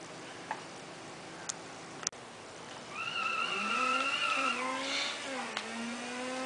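Car drifting in Midnight Club LA, a few sharp ticks and a clack give way to a rising engine wail with a squealing tyre tone sliding in pitch, fairly loud and alone.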